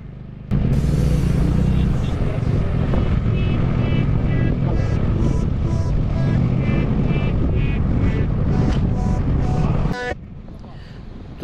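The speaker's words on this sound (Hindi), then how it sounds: "फर्स्ट और सेकंड गियर पे ही चल रहा है बाइक।" Motorcycle climbing a high mountain road from Leh toward Khardung La in Ladakh in first and second gear, its engine droning loud and strained close to the microphone with wind buffeting, then cutting down sharply near the end.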